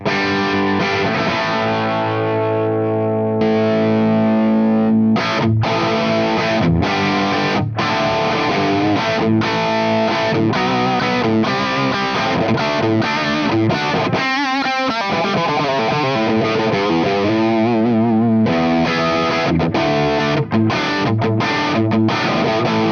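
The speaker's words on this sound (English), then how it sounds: "I will use the LPD 68 Deluxe, which is basically a Marshall type overdrive pedal" Electric guitar through a Marshall Origin 20 head boosted by an LPD 68 Deluxe Marshall-type overdrive pedal, driven and distorted riffing with sustained chords and quick choppy stabs, loud and continuous for over twenty seconds with no talking.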